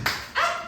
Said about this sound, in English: Let's give May claps